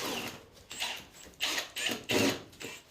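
A metal strapping band is screwed onto a drain pipe during a self-build drainage installation, giving a run of short ratcheting, scraping bursts of screwing close by, with no voices.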